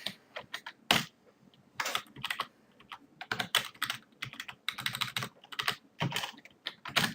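Typing on a computer keyboard, close and quiet, with irregular bursts of clicking keystrokes and short pauses between them, no talking.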